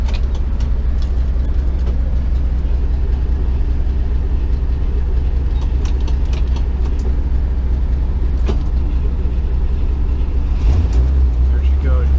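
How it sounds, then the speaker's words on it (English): An Oldsmobile 455 V8 in a GMC motorhome turns over and settles into a steady, loud, close idle rumble that shifts slightly near the end, with faint voices in the background. "There she goes, boys. Oldsmobile 455. Cranking in."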